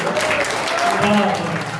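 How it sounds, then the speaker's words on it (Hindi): Audience applause at an all-India mushaira poetry gathering in Landhaura, Roorkee, a steady wash of clapping from a crowd that carries on without a break, with faint voices underneath. "एक बार जोरदार तालियां अपने लिए बजा दें"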